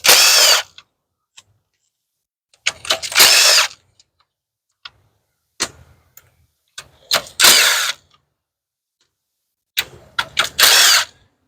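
Bolts come off the valve cover of a 2016 Nissan Rogue with a power tool in several short, loud bursts of whirring and ratcheting, separated by silent pauses and faint clicks.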